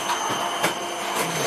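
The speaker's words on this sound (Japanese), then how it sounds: "今掃除機ウィンウィンウィンになってるね" A household vacuum cleaner runs steadily with a broadband whirring hum and faint tonal whine, fairly close and continuous, with no speech over it.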